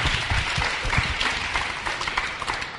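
A seated audience at a Marathon des Sables Q&A talk claps for one of the runners. The applause is steady and moderately loud, with no speech.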